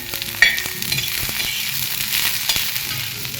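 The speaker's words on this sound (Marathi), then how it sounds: "कांद्याला पण आपण आता खरपूस भाजून घ्यायचं" Onion sizzles and fries with garlic in a hot pan, a steady broadband crackle with occasional clinks of a stirring spoon, close and fairly loud throughout.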